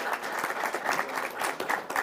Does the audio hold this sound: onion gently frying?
no